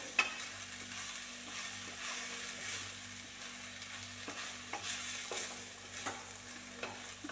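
Rice is mixed into cabbage curry in a pan, with quiet scraping stir strokes and a soft sizzle over a low steady hum, faint and close, with no talk.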